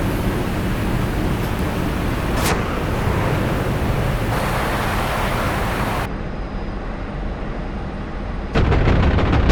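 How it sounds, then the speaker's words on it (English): MiG-15bis cannon fire in DCS, heavy booming bursts over a dense roar of wind and engine noise, with a sharp crack near the middle and a louder rumbling burst at the end. "Freaking guns sound like a damn howitzer."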